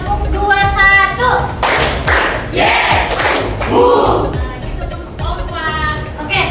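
A group of people, apparently in a teacher-training classroom, claps a practiced rhythm pattern in sharp, loud bursts, with voices and talk mixed in between the clap sets.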